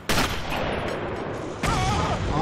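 A German sniper's gunfire in the Sniper Elite video game, with two loud, sharp reports about a second and a half apart, each followed by a sustained noisy rumble of battle ambience.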